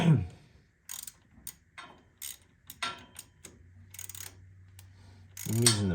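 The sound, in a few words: tightening bolt on Model T wiring connection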